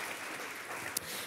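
A church congregation applauds loudly after a prayer, with dense, continuous clapping throughout.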